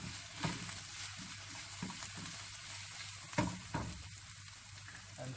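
Crispy beef and chili are tossed in a hot pan, with a steady sizzle of frying and a few sharp scrapes and clanks as the food is stirred, all close up and without talking.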